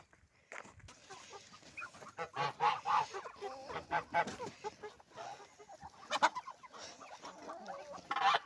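A noisy flock of chickens clucking and geese honking nearby, overlapping calls rising and falling continuously, with no one speaking.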